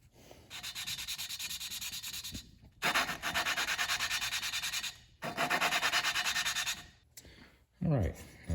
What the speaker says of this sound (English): put our suction cup on here and just start grinding away